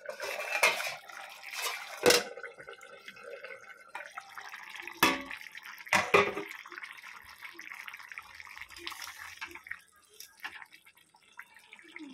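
A lid is set onto a pot of cauliflower and morola fish curry in a home kitchen, giving a few quiet, sharp metallic clinks and clatters spread over several seconds against a soft background.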